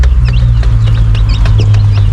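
A mother hen clucks in short, repeated calls over a steady low hum, with brief chirps scattered through, kept with her chicks to keep them warm at night.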